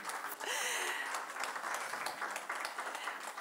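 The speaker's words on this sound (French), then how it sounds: "On vous demande d'applaudir les intervenants." An audience at a literary conference claps in applause for the speakers. Dense, steady clapping sounds a little distant and fairly faint, and it holds for several seconds without a break.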